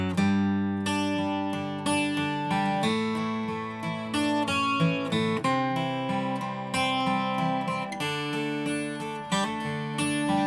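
Guitar plays a steady picked part with sustained chord tones and clear note changes, close and alone without talk.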